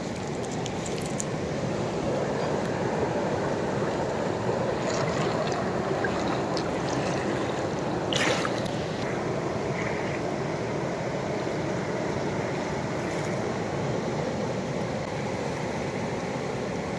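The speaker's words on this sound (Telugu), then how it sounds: "పరుగులు ఎడుతుంది, వాటర్ ఉరకలెత్తేస్తుంది." A stream near Mothugudem in late April rushes and gushes in a constant, broadband roar, with a few brief splashes standing out; no one speaks.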